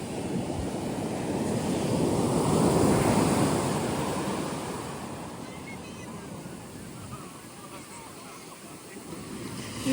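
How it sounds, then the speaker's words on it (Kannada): Big ocean waves surge and crash at Marari Beach in Alleppey, Kerala, a broad roar swelling to a peak and then easing, mixed with wind buffeting the microphone. "ದೊಡ್ಡ ದೊಡ್ಡ ವೇವ್ಸ್. ಆ ಕಡೆ ನೋಡು, ಅಲ್ಲಿ ವೇವ್ಸ್ ಬಂದು ಹೊಗೆ ಬರ್ಲತ್ತವ."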